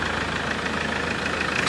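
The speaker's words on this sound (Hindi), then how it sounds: "लो जी स्टार्ट हो गई गाड़ी। एक बार एक्सीलेटर दे दें।" A Mahindra Scorpio pickup engine runs steadily after a power loss repair, a dense, even, close mechanical drone with no voices over it.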